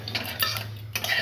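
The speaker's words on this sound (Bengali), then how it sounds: "এই সাদা তিলটা আমি একটু ভেজে নিচ্ছি খালি কড়াইয়ে।" A utensil stirs white sesame seeds as they dry-roast in an empty wok, giving quiet scraping and light clinking strokes in a few short bursts, close by and without talk.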